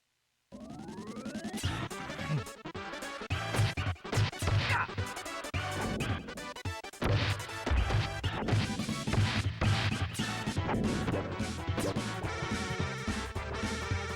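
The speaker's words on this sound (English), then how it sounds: "Those slam sound effects." Heavy slams, crashes and thwacks from a 16-bit beat-em-up video game, set in a city at night, hit repeatedly over dense game music and carry on loudly throughout with no speech.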